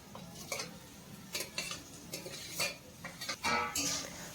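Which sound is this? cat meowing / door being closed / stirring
stirring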